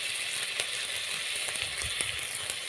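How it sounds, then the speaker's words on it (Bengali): Spices and ground tomato sauté in hot oil in a pan while being stirred, giving a steady close sizzle with scattered scraping clicks of the spoon, no voices. "আবারও সব মশলাগুলো একসঙ্গে খুব ভালোভাবে কষিয়ে নেব। খুব ভালোভাবে নাড়াচাড়া করে কিন্তু কষিয়ে নিতে হবে।"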